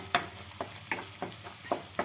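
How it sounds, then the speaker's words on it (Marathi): Ginger, garlic and coriander paste stirred into softened tomatoes on a pan for butter chicken, a spatula scraping in about seven short, evenly spaced strokes with a light sizzle underneath, close and fairly quiet. "त्याच्यामध्ये आता आपण दोन चमचे आलं लसूण कोथिंबीर पेस्ट घाला छान परतून घ्या"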